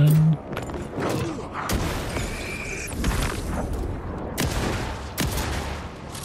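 A flashbang goes off during play of the video game Alan Wake 2, a loud sharp burst followed by crackling bangs and rumbling booms that keep going for several seconds.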